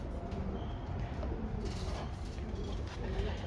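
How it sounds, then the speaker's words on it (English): Plain racing pigeons wearing 2023 rings coo steadily in a loft over a constant wash of background noise, fairly close and continuous throughout. "These are just my plain old racing pigeons."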